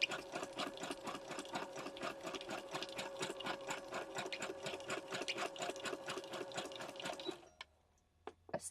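Sewing machine zigzag stitching along a grocery bag junk journal, a fast steady mechanical chatter of the needle running for about seven seconds before stopping abruptly, followed by a few faint clicks.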